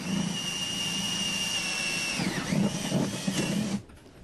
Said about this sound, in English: A 1/2 inch drill to make the hole larger to accommodate the anchor bolt.